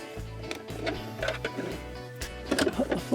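A sewing machine stitches a quilted water-soluble sun catcher decoration in short rhythmic bursts of needle thumps and motor whir, starting and stopping several times, close and moderately loud.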